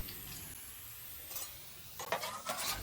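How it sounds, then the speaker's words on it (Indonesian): Sliced shallots fry in hot oil in a pan until golden, giving a soft, steady sizzle. Brief scraping stirs near the end sharpen it, and nobody speaks. "Next, goreng perbawangan sampai kecoklatan ya teman-teman."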